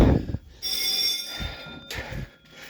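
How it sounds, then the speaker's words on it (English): Electric fire alarm bells ring in bursts in a care centre, a sustained metallic tone with brief gaps, heard at moderate distance from downstairs with some low knocks and rumble. "You heard the bells ringing downstairs."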